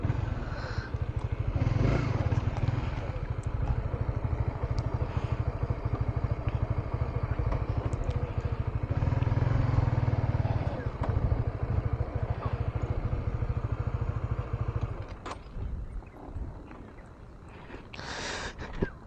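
A Honda CB150X touring motorcycle on the move, a steady, close engine drone with constant low thrum for most of the ride, then easing off to quieter rumbling and clatter near the end.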